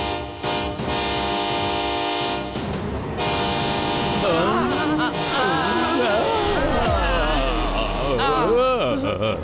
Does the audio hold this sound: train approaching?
yes